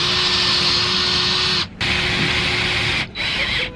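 A power drill driving screws into a van roof vent gives a steady, loud, close whine that cuts out briefly twice between runs.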